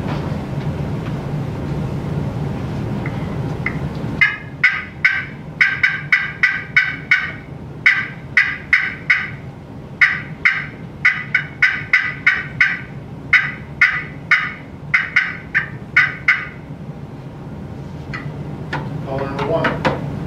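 A turkey call imitates a hen's cutting at a turkey calling competition: rapid, sharp, irregular clucks in quick bursts over a steady low rumble of background noise.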